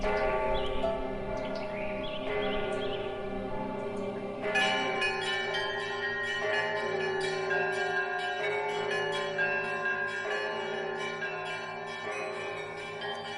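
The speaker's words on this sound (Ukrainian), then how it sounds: "З усіх усюд долинає дзвін, який прославляє Спасителя." Easter church bells ring continuously in a dense, overlapping peal, loud and resonant, with a second set of bells joining partway through.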